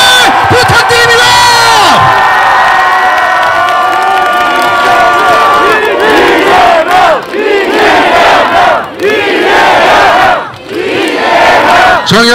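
A market crowd in Incheon cheers and applauds loudly for a visiting party leader, with roaring shouts, whoops and dense clapping swelling and dipping throughout, close and very loud.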